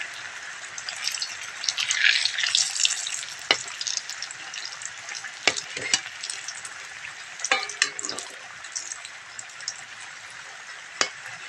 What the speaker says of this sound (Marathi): हे बघा आपले वडी तळून झाले